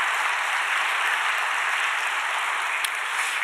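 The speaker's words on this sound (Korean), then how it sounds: "우리 찬양대원들 박수 한번 해주시기 바랍니다" Steady applause from a church congregation for the choir members, a dense even patter of many hands clapping continuously with no talking.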